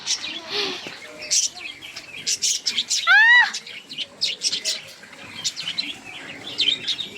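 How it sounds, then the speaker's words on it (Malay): Several birds chirp and tweet in short bursts, with one clear rising whistled call, heard outdoors alongside faint background voices. "Kat sini banyak burung."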